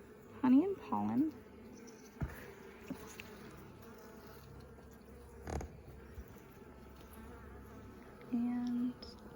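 Honeybees buzz close by while a nuc is moved into a full-size hive, with individual bees zipping past in short rising bursts over a low steady hum and occasional knocks of frames and equipment.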